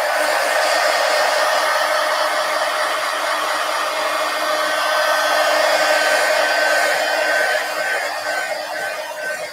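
A hair dryer blows hot air over altered mixed media pages in an abandoned book, a loud continuous whir with a steady high whine that drifts slightly toward the end, no talking.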